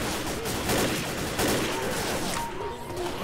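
Rapid video-game gunfire from Left 4 Dead played in third person, a dense run of sharp shots with louder bursts near the middle, over continuous game noise with faint voices underneath.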